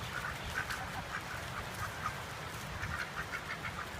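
Ducks forage in a compost pile for worms and bugs, giving soft, low murmuring quacks and chatter in a continuous, fairly quiet background texture without speech.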